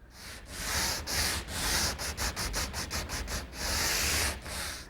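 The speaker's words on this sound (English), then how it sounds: "let's sand the cove smooth" Wooden cove molding being hand-sanded smooth: close, loud rasping strokes, a few long sweeps followed by a quick run of short back-and-forth rubs, then longer strokes again.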